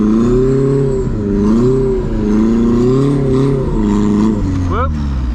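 A drift car engine revving hard through a tandem drift, a sustained droning engine note rising and falling steadily with throttle changes, loud and close, with voices talking over it throughout.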